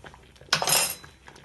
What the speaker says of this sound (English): We stir again.